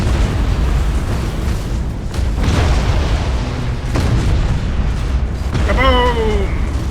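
In the space battle game Battlefleet Gothic Armada 2, starships are destroyed by deep, booming explosions that roll over a loud background rumble, and a processed voice briefly speaks near the end.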